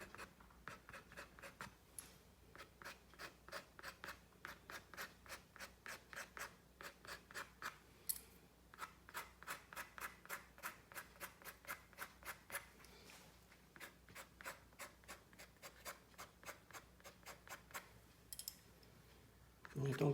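Rapid, rhythmic scratchy strokes repeat in quick bursts, scissor blades scraping dry across watercolour paper, close and soft, with brief pauses between runs.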